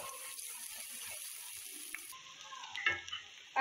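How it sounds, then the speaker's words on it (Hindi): Garam masala frying in oil in a pan for biryani gives a steady close sizzle, with a short clatter of stirring near the end. "और अब हम इसमें डालेंगे गरम मसाला, सारा गरम मसाला डाल देंगे, और इसकी अच्छी तरह से भुनाई करेंगे दो से तीन मिनट तक।"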